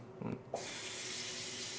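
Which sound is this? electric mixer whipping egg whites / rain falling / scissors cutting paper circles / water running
water running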